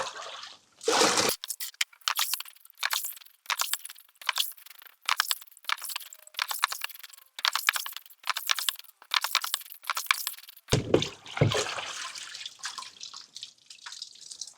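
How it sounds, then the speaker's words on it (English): Water is scooped and splashed from a tub of paper pulp during handmade recycled paper making, giving repeated close wet sloshes and drips in irregular bursts, with a louder pouring splash near the end. "let the water settle again, scoop off the top layer of water"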